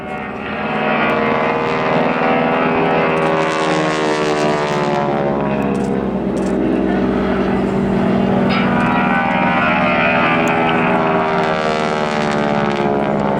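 A Harvard propeller aircraft roars past with a loud, harsh rasping drone from its propeller that stays strong throughout, swelling and shifting in tone as it flies by.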